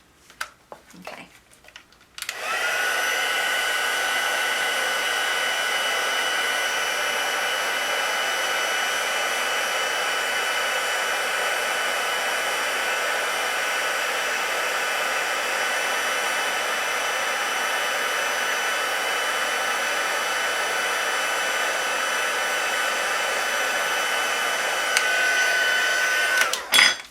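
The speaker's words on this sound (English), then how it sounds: "we're going to heat them up and emboss them" A heat tool blows steadily, loud and close, for about 25 seconds as it melts clear embossing powder on an easel card, with a brief quieter start and no talk.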